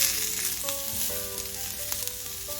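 Pizza topping ingredients fry in a hot pan with a steady, close sizzle and occasional stirring scrapes, and no one talks.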